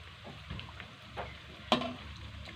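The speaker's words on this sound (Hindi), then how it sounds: "इसमें शामिल कर देंगे हम क्रंची और इसको फ्राई करते हैं" Crunchies frying in hot oil give a soft steady sizzle, broken by a few sharp pops and clatters of stirring or handling close by.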